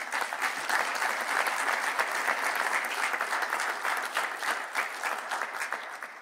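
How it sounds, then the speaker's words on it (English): An audience at an evening panel talk on human missions to Mars applauds the panellists, with steady, dense clapping from many hands for several seconds and no voices over it. "I'm going to ask you to put your hands together for all of the panellists this evening"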